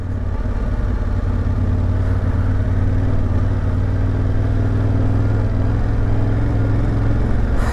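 Yamaha Ténéré 700 motorcycle engine turning over at barely any throttle while being ridden, a steady low rumble with a fairly even drone throughout, close and moderately loud with no voices.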